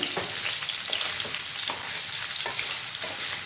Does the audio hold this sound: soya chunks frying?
yes